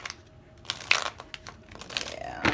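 Tarot cards being shuffled by hand during a pick-a-card love reading, a run of quiet crisp riffling and flicking bursts that come close together, a little louder near the end, with no talking.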